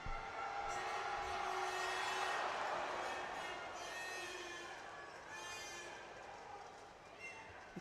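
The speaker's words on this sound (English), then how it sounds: "The crowd is excited." Arena crowd at the Budapest judo Grand Prix cheering and shouting, a broad swell of voices that rises then slowly fades, with faint talk mixed in.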